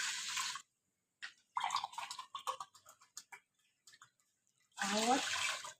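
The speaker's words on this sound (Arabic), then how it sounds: "وهحط عليها ميه. هحط 4 كوبايات من الميه اهو" Water from a cup is poured into a cooking pot holding rice for rice pudding, in short splashing bursts at the start and end, close by, with someone talking in between.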